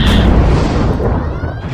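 Phaser fire explosion effect, a loud, close, roaring blast with a crackling burst that fades over under two seconds.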